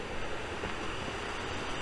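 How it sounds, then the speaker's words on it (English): Waterfall beside a mill on the Greensand Way in Surrey, a steady, dense rush of falling water, close and continuous without pause. "That'll be the third waterfall in Surrey."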